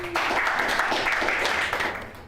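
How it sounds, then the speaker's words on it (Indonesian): A live show audience applauds the game master, broad sustained clapping filling the room at an even level before tapering slightly at the end. "Tepuk tangan untuk game master Cliff."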